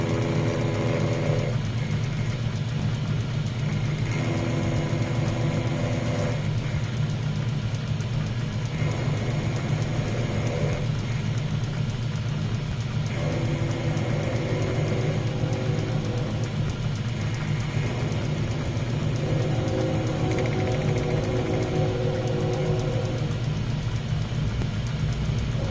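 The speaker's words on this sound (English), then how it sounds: "Yes, we have trains." A train rumbles past at length, a loud, steady low roar with rhythmic repeating tones from the wagons rolling by.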